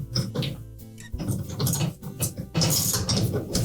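A 1/4-inch drive ratchet loosening the impeller screw in a Whirlpool dishwasher, clicking in quick bursts of rapid ratcheting with a short pause, close and fairly quiet.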